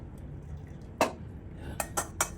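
Broth poured off boiled beef for menudo, heard as a sharp pot knock followed by three quick metallic clinks of pan and utensil, fairly close over a low kitchen hum.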